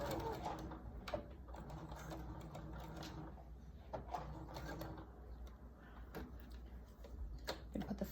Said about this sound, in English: And then sew over the elastic.